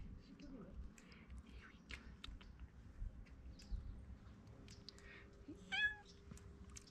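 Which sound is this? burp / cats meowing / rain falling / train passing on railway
cats meowing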